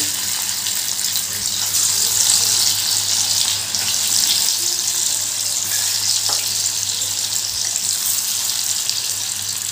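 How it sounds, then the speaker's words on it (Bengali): Yardlong bean dhoka, spiced bean cakes, frying in hot oil in a kadai, giving a steady, dense sizzle and hiss that carries on evenly throughout with no talking. "তেলটা গরম হয়ে গেছে, এবার আমি ধোকাগুলো ভেজে নেব।"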